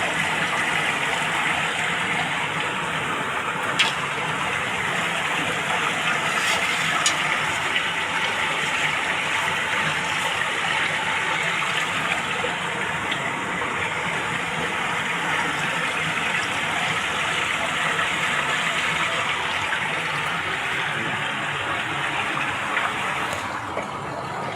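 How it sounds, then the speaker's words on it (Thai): Water flowing steadily in an outdoor stream or channel in rural Laos or Isan, a continuous broadband rushing wash that stays even and fairly close throughout, with no talk over it. "ฟังเสียงน้ำไหลเบิ่ง"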